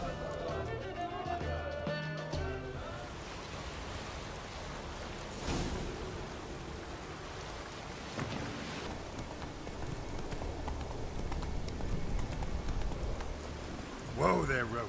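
Roach, the horse in The Witcher 3, gallops with a steady stream of hoofbeats that runs through the whole stretch, set within a dense mix of game music and ambience.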